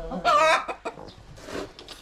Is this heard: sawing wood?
no